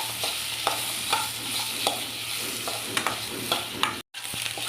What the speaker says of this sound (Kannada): ಬಾಣಲಿಗೆ ಸ್ವಲ್ಪ ಎಣ್ಣೆ ಹಾಕ್ಕೊಂಡಿದ್ದೀನಿ ಅದಕ್ಕೆ ಈರುಳ್ಳಿ ಬೆಳ್ಳುಳ್ಳಿ ಶುಂಠಿ ಹಾಕ್ಕೊಂಡಿದ್ದೀನಿ ಸ್ವಲ್ಪ ಫ್ರೈ ಆಗಲಿ